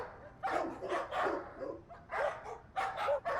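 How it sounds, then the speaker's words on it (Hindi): Several dogs barking in repeated bursts in a housing society at night, moderately loud with short pauses between volleys and no talk. "इतने क्यों भौंक रहे कुत्ते?"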